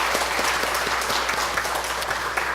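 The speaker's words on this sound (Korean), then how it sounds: "격려하는 박수를 드리겠습니다" A congregation at a Sunday morning worship service in a Korean church claps in encouragement. The applause is steady and dense for a few seconds, with no talking over it.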